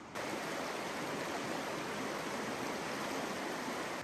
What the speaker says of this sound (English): This is right on the river, right on East Fork Hood River.